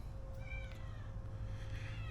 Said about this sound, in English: if the cat in the background will hush up long enough